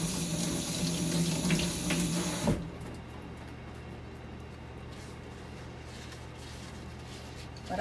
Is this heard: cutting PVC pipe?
no